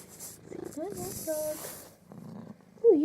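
House cat purring loudly and making short chirping meows close up indoors, with someone speaking softly between the sounds.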